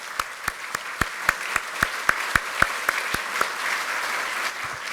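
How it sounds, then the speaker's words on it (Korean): Applause at a party assembly of newly elected lawmakers. A dozen crisp, evenly spaced claps ring out in unison, close and rhythmic, then give way to a softer, scattered patter of applause that fades out. "박수를 좀 부탁드리겠습니다."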